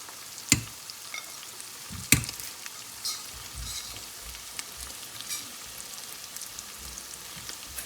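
Masala for prawn malai curry, spiced with turmeric, chili, cumin and garam masala, sizzles steadily in the pan, with a couple of sharp spoon scrapes and lighter stirring clatter over a continuous frying hiss.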